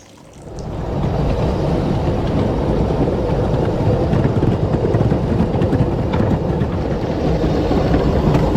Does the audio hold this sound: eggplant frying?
no